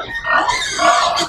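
Piglets grunt and squeal at feeding time, a short burst of overlapping high, nasal calls close to the microphone.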